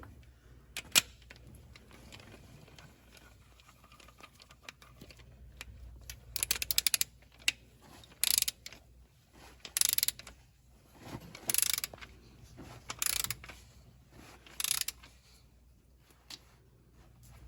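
Ratchet of a socket wrench running down an injector cup on a Cummins ISX 2350 engine, heard as several short, sharp bursts of rapid clicking separated by pauses, close and fairly loud over faint shop background.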